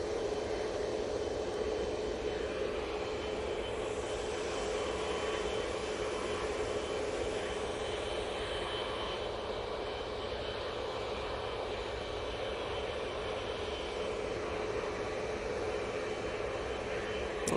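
Qatar Airways jet at Manchester Airport, a steady, distant engine roar that holds evenly for the whole stretch with a faint shifting rush, heard alone with no one speaking.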